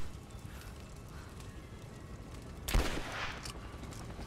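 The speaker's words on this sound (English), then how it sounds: "Bolt action rifle." A single sharp bolt-action rifle shot cracks out in Rise of the Tomb Raider amid quiet ambient noise, followed by a brief echoing tail.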